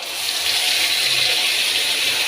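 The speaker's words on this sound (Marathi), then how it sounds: "आता आपण चटणी ओतून घेऊ" Chutney is poured into a hot tempering of mustard seeds, cumin, two red chillies and curry leaves for rava appe. A loud, steady hissing rush runs throughout, close by and uninterrupted, with no talking.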